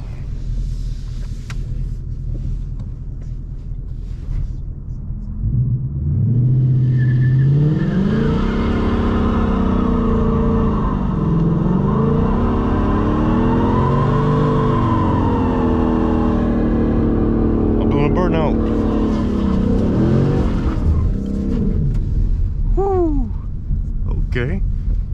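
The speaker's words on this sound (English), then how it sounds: "A nice little burnout right there." A 2021 Ford Mustang GT V8 on a dusty, potholed road does a burnout, the engine rumbling and then revving hard in long rising and falling sweeps for about fifteen seconds, loud and close, with voices around it.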